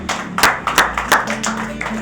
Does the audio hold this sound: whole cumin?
no